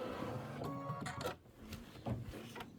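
Computerized embroidery machine stitching a Kimberbell Halloween design, a steady close mechanical whirr of rapid needle strokes throughout, dipping briefly partway through before resuming.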